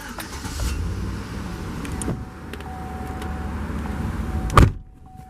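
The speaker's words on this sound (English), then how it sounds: "and just flick to start." The engine of a 2010 Chevrolet Tahoe LS starts up and settles into a steady low idle for several seconds, then a sharp clunk sounds near the end before it drops quiet.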